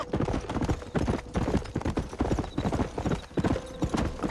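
A horse gallops in Red Dead Redemption: rapid, close hoofbeats drum in an uneven rhythm, with a brief whinny-like sound in the mix.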